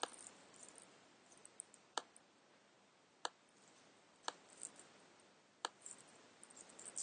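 Sharp computer mouse clicks in a CAD program, four distinct clicks spaced about a second apart over quiet background hiss, with no talking.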